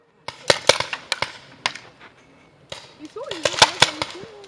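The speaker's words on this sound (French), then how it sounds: "Je sais pas qui c'est qui tire là-bas, le noir, mais il tire bien" Paintball markers fire on an outdoor paintball field in a string of sharp, snappy cracks, some quick doubles, scattered across the clip with low background noise and a faint whistle-like tone near the end.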